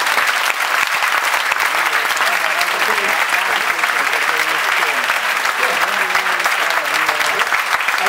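During a communication festival talk in 2020, an audience gives sustained, dense applause. Steady clapping stays loud and even throughout, with some voices faintly mixed in.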